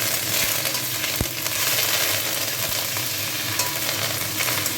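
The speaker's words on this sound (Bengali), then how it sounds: "কারি পাতা দিয়ে দিলাম, দিয়ে একটু নাড়াচাড়া করবো" Curry leaves fry in hot oil while being stirred for masala dosa, a steady close sizzle broken by a few sharp scraping clicks of the spoon, with no talking.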